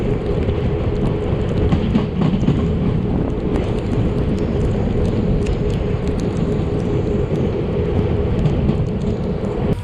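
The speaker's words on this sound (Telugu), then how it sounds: "అనంతపూర్లో ఎంటర్ అవుతుంది ట్రైన్" Mysore–Kacheguda Express rolling into Anantapur, Andhra Pradesh, with a steady, loud low rumble and broadband roar of the running train heard continuously throughout.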